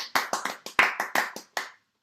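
Hands clapping over an online meeting call, about nine sharp, close claps in an even rhythm, then silence.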